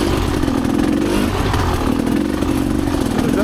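Rieju Ranger dirt bikes ride a single-track trail, their engines droning loud and steady throughout with a rough, continuous mid-pitched buzz and slight rises in revs, close by and without speech.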